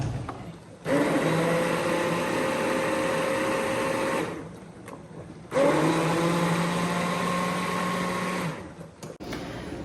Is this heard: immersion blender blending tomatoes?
yes